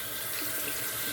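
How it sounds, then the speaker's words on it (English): A water tap runs steadily while a shaving brush is rinsed under it, a close, even hiss of flowing water with no voice. "I'm just go ahead and rinse this off."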